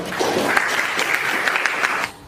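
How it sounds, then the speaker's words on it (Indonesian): Brief applause from a classroom of students after a lesson presentation, a light, fairly even patter of clapping that stops abruptly after about two seconds. "Kita kasih tepuk tangan dulu."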